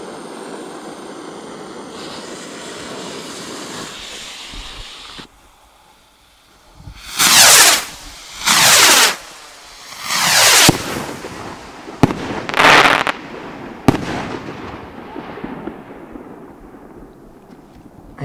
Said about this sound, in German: So, direkt 3 Stück jetzt auf einmal.